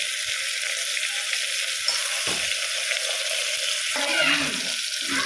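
Tomatoes sizzle loudly in a hot pan with a constant crackling hiss, interrupted by a few soft scraping stirs.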